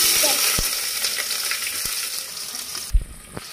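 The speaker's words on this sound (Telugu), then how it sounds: "గోల్డెన్ బ్రౌన్ కలర్ వచ్చే వరకు దాంట్లోనే వేగనియాలి" Onions and bay leaves sizzle steadily in hot oil for a Bangalore-style donne biryani, with a constant close frying hiss and a few sharp clinks from stirring near the end.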